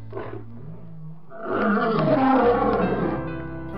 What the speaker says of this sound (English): the queen monkey was also taking a stroll when she heard the lion roaring